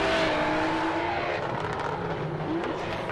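A drift car takes a corner during a drift competition at Mulgi Drift, giving a loud, continuous engine roar with a tire squeal near the end.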